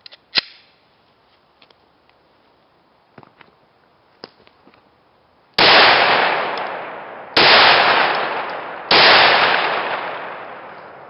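Glock 20 handgun firing three loud, close gunshots about a second and a half apart, each a sharp blast with a long ringing decay, after a few quieter handling clicks and taps.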